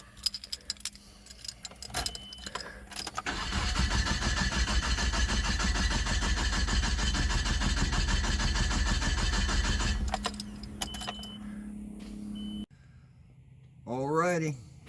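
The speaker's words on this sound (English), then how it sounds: "And I'll start up the truck until it quits running." Engine of a 1996 Nissan pickup truck being worked on for a fuel pump replacement cranks, catches and runs steadily for several seconds, then cuts out, with keys and small handling noises before and a voice near the end.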